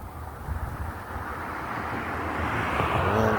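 Strong wind of about 25 mph blows through a tree on a hot 100-degree day, giving a steady, broad rushing roar that builds gradually, with heavy low buffeting on the microphone.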